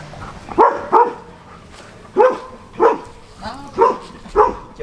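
Several dogs bark in a series of separate, fairly loud woofs spaced about a second apart, with some whimpering between them.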